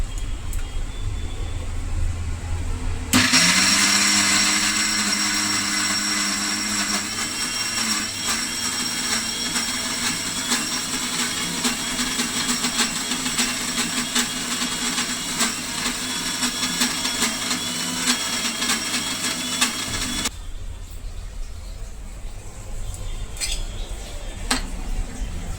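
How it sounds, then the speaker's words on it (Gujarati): Soaked lentils being ground into batter in an electric mixer jar with garlic cloves and green coriander, a loud steady motor whir that starts abruptly after a few seconds, runs continuously, then cuts off, with quiet kitchen noise before and after. "સૌપ્રથમ તો પહેલાં જે દાળ પલાળેલી છે તેને મિક્સર જારમાં પીસી લેશું"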